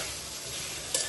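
Vegetables with eggplant sizzle steadily in a hot pan while being sautéed for a curry, a close, even frying hiss with a brief stir or clink near the end and no talking.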